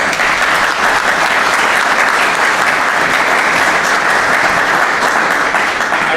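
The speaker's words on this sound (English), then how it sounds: "a big round of applause for all our panelists." A large audience gives a panel a big round of applause at the close of a leadership event, a dense, loud and continuous roar of clapping from start to finish.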